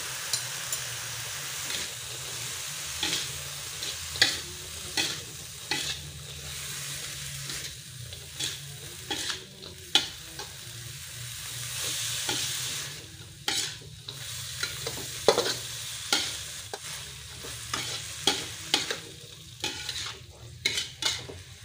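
Bean sprouts and scrambled egg stir-fried with oyster sauce in a pan, with a steady sizzle and repeated scraping, clattering stirs of a utensil against the pan, close and continuous throughout.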